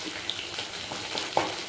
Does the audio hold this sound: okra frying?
yes